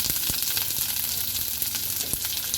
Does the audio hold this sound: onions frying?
yes